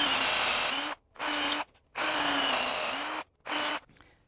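A power drill bores holes into a wooden workbench during a build, running in four steady bursts with short pauses between, close and fairly loud, no talking.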